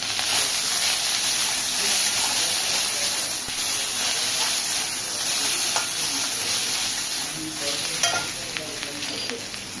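Crushed ginger frying in hot oil for a Bengali kolai dal makes a loud, dense, continuous sizzle and hiss close by, with faint stirring clicks now and then and no speech.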